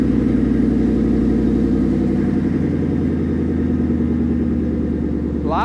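A Coyote V8 in a custom Ford F100 truck with cam phasers idles close by with a steady, lumpy rumble and a choppy rhythm that holds throughout, with no talking.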